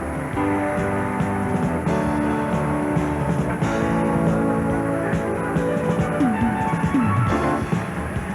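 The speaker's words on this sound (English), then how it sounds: "School bus versus dump truck." A school bus and a dump truck drag racing at the 1989 US Diesel Truck Nationals: loud, continuous diesel engine roar with dense layered harmonics that holds steady for the whole stretch.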